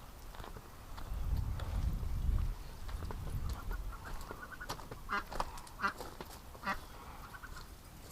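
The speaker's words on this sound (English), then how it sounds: "Sounds like a duck is trapped." Muffled quacking from a duck trapped in a shed, several short nasal calls in an irregular series after some low rumbling, heard from a little distance.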